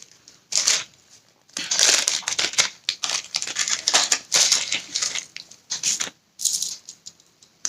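Crinkly plastic and paper rustling and tearing as a small jewellery necklace or pendant package is unboxed, in irregular close bursts with short pauses and no talk.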